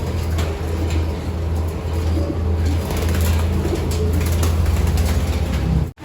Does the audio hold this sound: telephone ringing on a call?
no